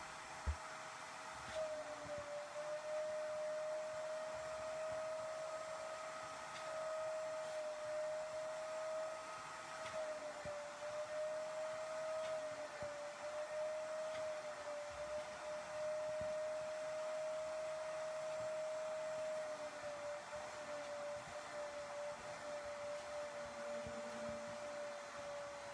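A vacuum cleaner runs steadily over a freshly cleaned carpet, a continuous whining motor drone holding an even pitch for the whole stretch with no voices.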